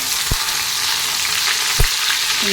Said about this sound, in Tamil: கடுகு பொரிய ஆரம்பிச்சிருச்சுங்க